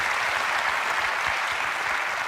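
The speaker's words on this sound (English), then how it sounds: "They're clapping her, aren't they, really?" Steady, dense applause from a large audience, loud and continuous throughout with no voices on top.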